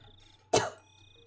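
A single short cough, close and clear, over a faint steady electrical hum.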